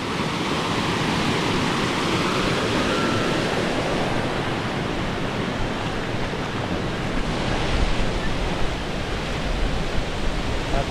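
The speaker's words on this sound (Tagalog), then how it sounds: "Ganyan kalakas yung tubig na naagos dyan o." Strong, steady rush of flowing water at a cold spring in Kasiguran, Sorsogon, a dense continuous roar heard up close with no talk over it.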